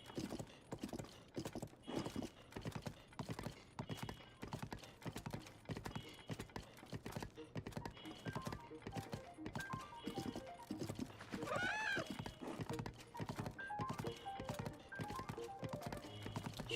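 Rapid, steady clip-clop of horse hooves at a gallop in The Legend of Zelda: Tears of the Kingdom, loud and close throughout, with a whinny near the middle and no talking.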